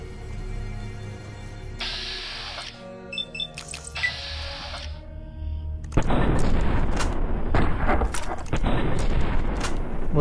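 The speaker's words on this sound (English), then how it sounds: "Let's, shoot some grenades at him" Grenade launcher shots and blasts in Fallout: New Vegas, with a few sharp bursts early on, then a dense, loud run of booming impacts and gunfire for the last several seconds.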